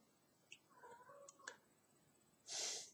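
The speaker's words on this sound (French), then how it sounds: "C'est mon chat." Indoors, a house cat lets out a quiet, wavering meow, with a few faint clicks around it and a soft breathy hiss of noise at the end.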